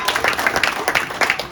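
Children clapping at a radio station birthday event, a short burst of uneven applause with several hands close by, mixed with faint voices in the room.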